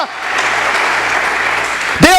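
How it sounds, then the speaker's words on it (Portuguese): A church congregation claps loudly and steadily for the Lord at a worship service, a dense wash of applause that ends as a voice comes in at the close. "As palmas para o Senhor."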